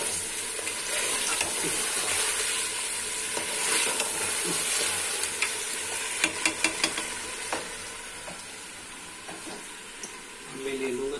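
Arbi gosht masala, taro and meat, sizzles and fries in a pot while a spoon stirs and scrapes it, a continuous close crackle with sharper clatters midway and a voice speaking at times.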